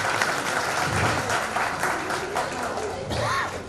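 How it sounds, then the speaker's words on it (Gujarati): An audience claps in sustained, dense applause that rises and falls for several seconds, with faint voices mixed in. "આપણે તાળી પાડી"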